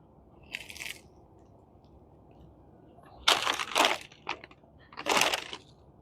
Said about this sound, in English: I'm just going to eat it like a donut.